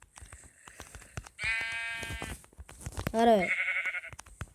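Sheep in a survival video game bleat loudly and close in two long, wavering calls, with a voice speaking briefly underneath.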